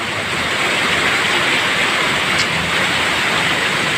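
Dense, steady rushing hiss of very heavy rain pours continuously outside a shop, loud and close, with no voices.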